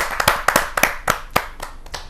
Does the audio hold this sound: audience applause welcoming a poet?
yes